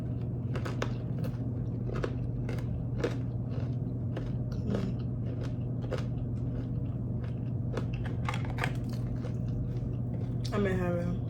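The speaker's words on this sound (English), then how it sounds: "I hear that crunch on that fry." Chick-fil-A fries with sauce being chewed close to the mic: soft, irregular crunches and mouth clicks repeat over a steady low hum, with a brief voice near the end.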